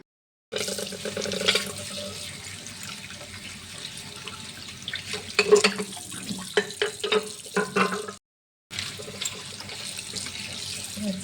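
Water is poured and splashed while the water in a home temple is changed, a continuous close gush with some clattering vessel knocks, briefly stopping near the end before resuming.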